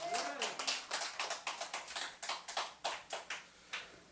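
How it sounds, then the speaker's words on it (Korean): Congregation in a church sanctuary clapping in unison after a call to praise, a steady run of about a dozen evenly spaced, moderately loud claps with faint voices underneath. "이 블레싱의 복, 택함의 복을 주신 하나님께 영광하게 박수 한번 합시다."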